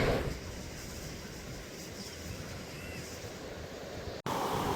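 Seawater rushes hard through four opened sluice gates at Thondaimanar in Jaffna during a stormy, churning sea, a steady loud roar of water and wind noise running unbroken, with one brief dropout near the end.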